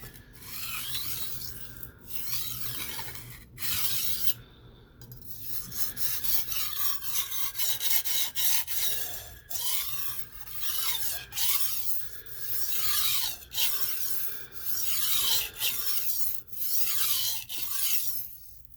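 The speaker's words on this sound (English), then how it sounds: "That is the sound of stone sharpening steel." Repeated rasping strokes of a steel blade drawn across a whetstone, rhythmic and close, with brief pauses between passes.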